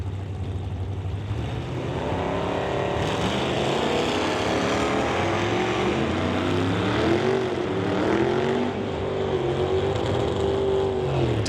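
Two drag racers, a Malibu wagon and a Chevy pickup, launch down the strip at a drag racing event, with loud engines roaring and rising in pitch as they accelerate together, filling the whole stretch with no talk.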